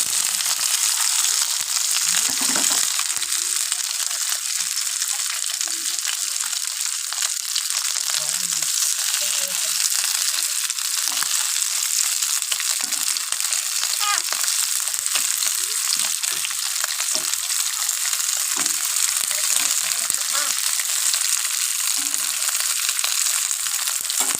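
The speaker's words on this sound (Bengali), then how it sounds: "মাছগুলো ভাজা কমপ্লিট হয়ে গেছে" Steady, loud sizzling of fish frying in hot oil in a wok, continuous crackle with occasional soft stirring sounds underneath.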